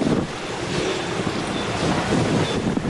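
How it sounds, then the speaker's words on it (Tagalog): Strong wind from Typhoon Quinta roars steadily across Leyte, buffeting the microphone with dense, continuous gusting noise throughout. "malakas na ulan at hanging dala ng bagyo"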